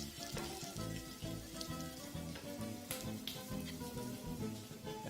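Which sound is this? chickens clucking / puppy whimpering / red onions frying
red onions frying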